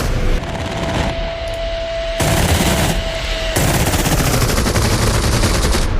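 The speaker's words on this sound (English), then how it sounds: "We'll start with a beautiful 8 Browning half-inch machine guns, which sound pretty glorious." Eight Browning half-inch machine guns of a P-47D Thunderbolt firing in the DCS flight simulation game, loud continuous rapid bursts with a dense rattling roar over engine drone, growing heavier toward the end.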